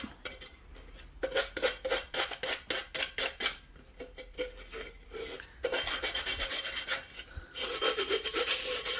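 Glitter on an epoxy-coated tumbler cup is smoothed by hand, producing close, quick rhythmic rubbing and rasping strokes in bursts, turning denser and more continuous in the second half, with no speech.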